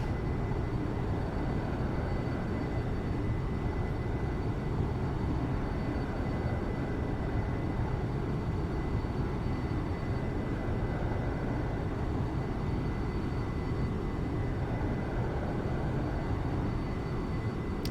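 Propeller plane engine in the X-Plane 11 flight simulator drones steadily and evenly throughout, a constant broadband roar with no breaks or talking.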